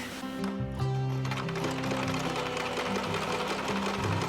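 A sewing machine stitches a 1-inch hem on a DIY campervan curtain, giving a steady mechanical whir that runs continuously at close range with its pitch shifting slightly, and no talk over it.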